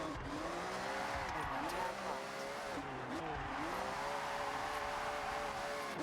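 An off-road Ferrari in Forza Horizon drives with a steady, loud engine drone that rises and dips as it revs and shifts, with occasional tire noise and a voice talking over it.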